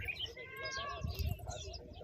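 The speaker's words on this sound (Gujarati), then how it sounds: "જો મોર બોલે છે" A peacock calls in a forest, its drawn-out harmonic cry rising briefly over nearby children's chatter and outdoor background noise.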